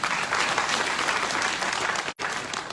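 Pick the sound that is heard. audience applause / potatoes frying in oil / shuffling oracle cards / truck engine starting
audience applause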